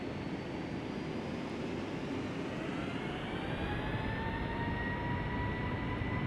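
Simulated Boeing 757-300 jet taking off in Flight Simulator X, a steady loud engine roar with rising whine tones building across the run, constant and continuous with no talk.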